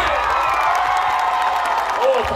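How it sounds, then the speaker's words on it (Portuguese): A studio audience at a TV Tem taping with Marcos Paiva claps and cheers on cue, a dense, steady wash of applause that stays even and fairly loud for the whole stretch. "eu quero um aplauso de todo mundo aqui pra sair bonito"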